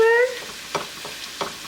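Shrimp cooking in a pan for tacos, a steady soft sizzle of frying under a brief stirring scrape or two, close by with no talk.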